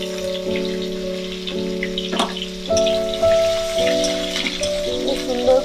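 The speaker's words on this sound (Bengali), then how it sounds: "তেল গরম হয়ে যাওয়ার পরে এবারে আমি দেব কড়াইয়ের মধ্যে যে পেঁয়াজ কুচো, প্রথমে লঙ্কা রসুন দিয়ে দেব" Chopped chili and garlic dropped into hot oil in a wok for a Bengali methi shak dish, giving a soft crackling sizzle with sharp pops beneath a steady tonal hum, growing busier toward the end.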